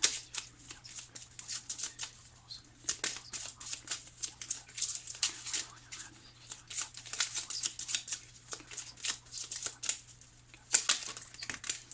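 Oracle cards are shuffled and drawn by hand in a quiet room, giving rapid bursts of papery riffling and flicking that come and go in irregular clusters, close by, with a faint low hum underneath.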